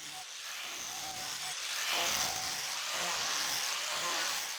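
A power carving disc grinds into scrap wood, shaping the outside of a retro swivel chair in a workshop; a steady, loud whirring abrasion runs throughout with slight swells in pitch and pressure.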